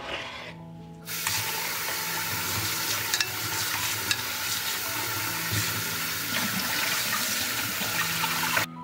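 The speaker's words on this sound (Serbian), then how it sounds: "nosim ga sada da ga isperem pod mlazom hladne vode" Cold water runs steadily from a tap, a continuous rushing splash with occasional knocks and rattles as potatoes are rinsed beneath it.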